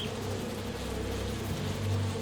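Bees buzzing around their nests in the Spider-Man 2 video game, a steady, dense, close drone that holds without a break and swells slightly near the end, with no talking over it.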